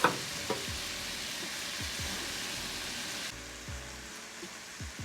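A sweet potato and broccoli hash fries in a pan, giving a steady close sizzle with scattered soft pops and light stirring scrapes, the hiss easing slightly partway through, without speech.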